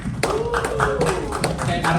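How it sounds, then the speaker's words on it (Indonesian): Clapping hands from an audience at a public speaking session, a few sharp separate claps heard nearby while a voice talks over them. "tepuk tangan dong teman-teman sekali lagi teman-teman"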